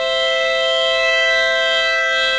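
Electronic organ chord of several sustained tones played through speakers, a steady, even hum held without breaks, loud and alone.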